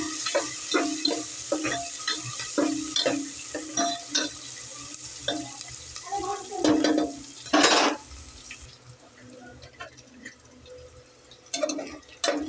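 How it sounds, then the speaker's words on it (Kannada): Onions frying in a pan for home-cooked egg biryani, with intermittent stirring scrapes and a steady soft sizzle, one louder burst of hiss midway, then quieter frying; no talking. "ಉಳ್ಳಾಗಡ್ಡಿ ಹಾಕ್ಕೊಂಡು ಕೆಂಪು ಹಾಕ್ತಾನ."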